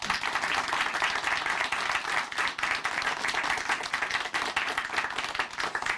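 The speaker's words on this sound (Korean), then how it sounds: "다시 한번 자매님께 박수 보내드릴게요." Steady, dense applause from a church audience, loud and continuous for several seconds with no pause.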